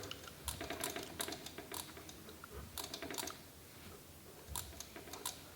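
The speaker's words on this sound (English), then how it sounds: "That washer is hitting the rotor." A loose washer on a Juiced Hyper Scorpion e-bike scrapes and ticks against the spinning brake rotor, producing quick irregular clusters of faint clicking and rasping contacts close by.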